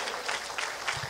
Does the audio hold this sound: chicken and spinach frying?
no